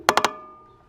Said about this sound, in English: how to fix mountain bikes that sound like this